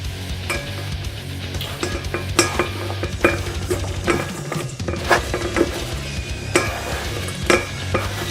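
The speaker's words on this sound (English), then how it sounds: "Put your boiling water and then throw your onions in here." Onions tossed into a dish for pickled red onion, with repeated stirring, clinking and scraping of utensils against cookware over a steady hiss of boiling water, close and fairly busy.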